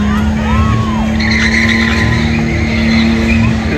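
A normal car drifts at a street machine and hot rod show in Kandos, Australia, its tires squealing in long, continuous wails under a steady roar, heard from a distance with a crowd murmuring and people talking nearby.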